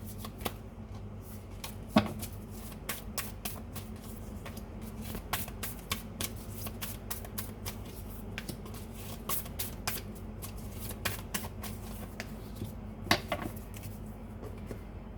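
A deck of tarot cards being shuffled by hand, with repeated crisp riffles and slaps in an irregular rhythm, close and fairly quiet, no talking.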